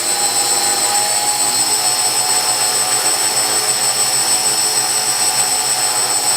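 Hexacopter drone motors spinning at half throttle indoors, a loud continuous high-pitched whining roar with steady tonal hum, unbroken throughout.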